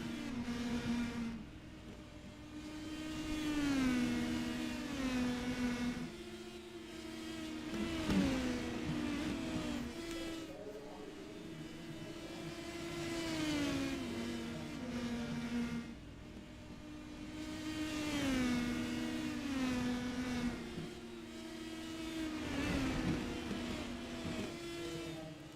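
Race cars circle Five Flags Speedway in the iRacing simulator, engines rising and falling in a steady lap rhythm as they sweep past in waves, heard alone at moderate volume.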